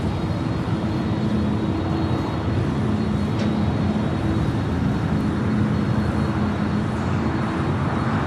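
A heavy Airbus airliner departs at LAX, heard as a continuous broad roar of jet engines with a steady low hum, loud and unbroken throughout, with no voices.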